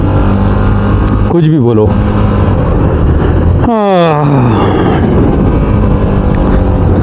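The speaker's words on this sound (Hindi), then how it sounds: "और अब ये बाइक चलना स्टार्ट हुई है।" A Hero Xpulse Pro motorcycle with burnt clutch plates climbs a hill near Haldwani, its engine droning loudly close to the rider and rising in pitch as it revs, with someone speaking over it.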